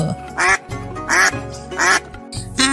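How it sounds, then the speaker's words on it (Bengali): Cartoon duck quacking in a fairy-tale scene: three loud, nasal quacks in steady rhythm, each about half a second long, then a short squawk at the end, close and clear with no talk over them. "আর হাঁসের কণ্ঠে শোনা গেল"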